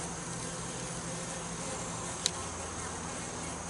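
Honey bees at a hive buzz in a steady, dense drone that holds throughout, with one brief sharp click partway through.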